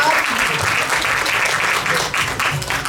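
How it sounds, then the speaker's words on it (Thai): Audience applause for actor Kim Soo-hyun at a Thailand stop of his Asia Tour fan event, a dense steady wash of clapping with some crowd noise, filling the whole stretch without letup. "ขอเสียงปรบมือให้กับคุณคิมสุยอ น"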